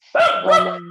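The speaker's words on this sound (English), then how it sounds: "That's my dog." A dog barks loudly and close by indoors, two sharp barks in a row, with a faint voice briefly under them.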